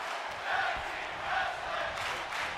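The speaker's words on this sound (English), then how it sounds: "The crowd chant for tag team wrestling." A wrestling arena crowd chants in rhythmic swells during a women's tag team match, the loud massed voices rising and falling about three times over a steady din.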